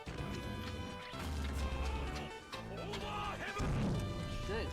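A loud, dense burst of crashing, smashing impacts with booming low rumble and warped tonal sweeps, continuous and heavy: a time-stop skill effect in the Roblox game Shinobi Life 2.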